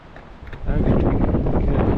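Wind gusting through alder trees during a treetop climb, a broad roaring rush that builds suddenly and buffets the microphone up close.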